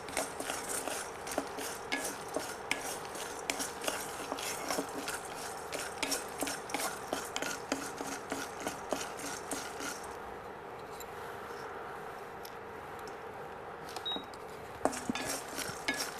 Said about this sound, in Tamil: இப்போ சுண்டைக்காயை வறுத்துக்கிட்டு இருக்கோம்.